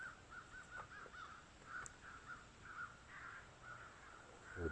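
Crows caw in a run of short harsh calls, faint and a little distant, over quiet outdoor background on a walk to a fishing hole.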